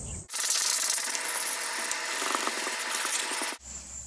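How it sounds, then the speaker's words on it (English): Continuous, loud, gritty sanding on a lawn mower wheel runs for about three seconds and then stops abruptly. "I'm going to do a little sanding on the wheel."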